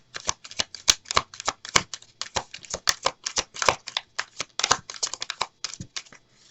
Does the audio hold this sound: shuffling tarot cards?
yes